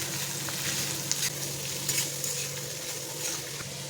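Bitter gourd with salt and turmeric being stirred in a pan for a Gujarati bitter gourd and onion curry, giving a steady low sizzle with faint scraping stirs and a few light clicks throughout.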